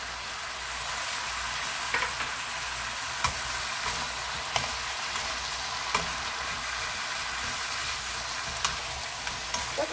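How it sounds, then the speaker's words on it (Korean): Fish cake with onion, green onion and chili pepper stir-fries in a pan with a constant soft sizzle, marked by occasional light clicks of a utensil against the pan, fairly quiet and without voices. "섞어서 볶아주세요."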